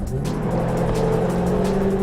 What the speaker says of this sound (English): Next thing you notice is that exhaust. It's actually obnoxious.